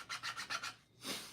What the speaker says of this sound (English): I can't talk and saw at the same time.